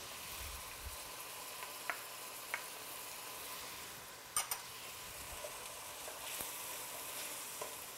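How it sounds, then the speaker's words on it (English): Onions, garlic and ginger fry at high heat in a pan, a steady loud sizzle with a few short clicks and stirring scrapes, no voices. "I'm really cooking at high heat in this point, and that's because I really want those onions to cook pretty quickly."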